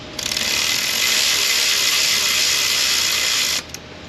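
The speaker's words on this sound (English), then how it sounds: "I wonder if that ratchet just achieved 71 inch-pounds." A ratchet wrench tightens a bolt on an LB7 Duramax diesel engine, giving one loud, fast, continuous clicking buzz close by for about three and a half seconds before it cuts off suddenly.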